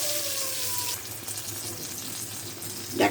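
Eggplant slices frying in a pan, a steady close sizzle that softens after the first second, with a brief louder burst of hiss near the end.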